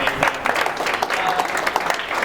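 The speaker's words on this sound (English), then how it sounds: "So round of applause again for that." An audience claps steadily in a continuous round of applause, close and fairly loud.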